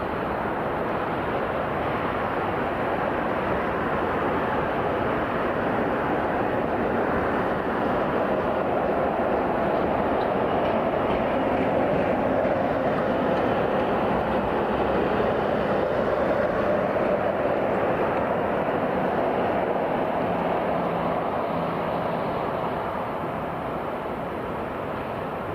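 Rolls-Royce Trent 700 engines on an Airbus A330-300 spooling up at Heathrow, a steady, loud, broad roar that builds slowly and holds for the whole stretch, with no talk over it.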